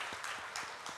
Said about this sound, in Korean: 어제 우리 결혼식 준비하느라고 수고하신 우리 어른들에게 고맙다고 박수 한번 하겠습니다